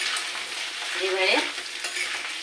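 Food being stirred in a frying pan for a leaf-wrapped roll, a steady close sizzle broken by scraping strokes of a spatula, with a brief louder scrape in the middle and no talking.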